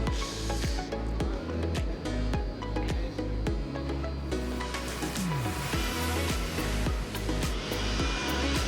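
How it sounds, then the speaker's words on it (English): A garden blower blows with a continuous rushing whoosh at an outdoor muscle car show, while nearby clatter and passing noises come through around it. "We've got the garden blower blowing now."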